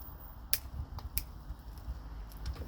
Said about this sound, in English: Alright, let's give a snip.